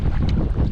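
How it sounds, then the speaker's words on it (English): Strong gusting wind buffeting the microphone on a lake during a canoe trip in Newfoundland, a brief loud roaring rush with no talking. "Gusting pretty good here now."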